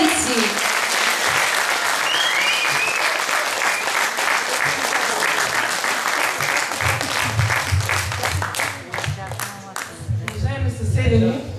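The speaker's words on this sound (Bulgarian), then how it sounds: "Довиждане и вашите аплодисменти!" Hall audience at a village gathering between Ukrainian and Bulgarian neighbours in Bulgaria breaking into loud, sustained applause, with a voice speaking over the clapping near the start and rhythmic, louder claps toward the end.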